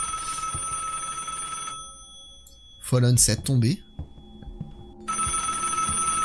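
A telephone rings in the French horror game Family Curse, a steady electronic trill at the start and end with a pause between, while someone talks over the middle.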